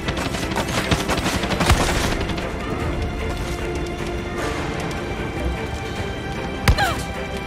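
Enemy gunfire in the Far Cry 6 video game, with bursts of shots crackling through a dense mix of battle noise and a couple of sharper nearby bangs standing out.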